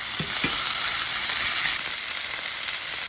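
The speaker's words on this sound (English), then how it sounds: "Pan's hot, let's get it seared." Steak sears in a hot pan with a steady, loud, broadband sizzle and crackle that holds throughout, with a few soft clinks near the start.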